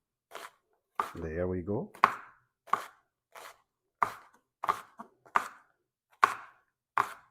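A knife chops through an eggplant on a cutting board in sharp, evenly spaced strikes about every half second, close and crisp, with a brief spoken phrase partway through.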